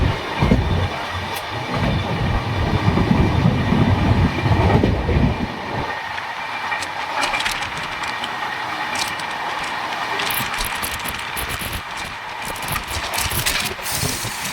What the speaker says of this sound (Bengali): মিস করে গেলাম, ভারতবর্ষের সব থেকে শক্তিশালী ইঞ্জিন পেরিয়ে গেল।